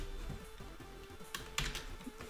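Faint computer keyboard typing of Python code for a pygame program, a few soft irregular key taps with a couple of sharper clicks, heard up close in a quiet room with no speech.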